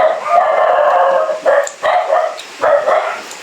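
Several dog barks in a rough sequence, with a steady bark-like howling tone holding between them, fairly loud and near.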